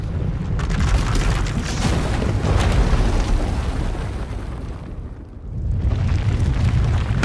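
A loud, rumbling explosion erupts during a Star Wars: The Old Republic cutscene as an asylum is destroyed. Deep sustained booming dips briefly, then surges again.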